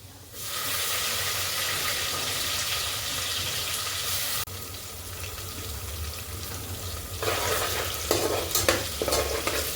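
Steady sizzling and frying of tomatoes in a pan, with a stirring scrape and louder crackling bursts toward the end.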